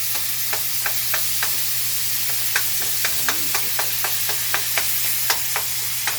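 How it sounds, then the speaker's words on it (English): Ground beef fries and is chopped into small crumbles in a pan, a steady close sizzle broken by regular sharp scrapes and taps of a utensil at a quick, even rhythm. "Crumbling up the meat. They're talking about cook this meat for 4 to 6 minutes."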